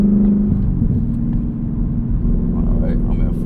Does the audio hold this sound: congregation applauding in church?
no